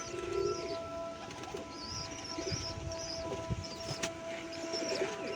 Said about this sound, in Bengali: এটা হচ্ছে নর পায়রা।